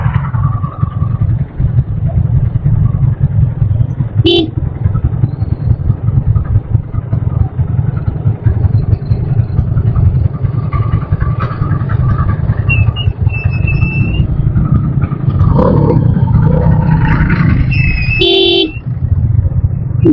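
A traffic jam of motorbikes and cars makes a loud, constant engine rumble close by, with a short horn toot early on and a longer burst of honking near the end.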